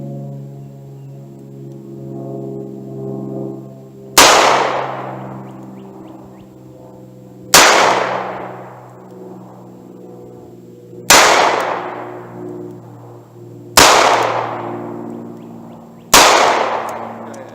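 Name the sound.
38 Special pocket revolver shots at long-range target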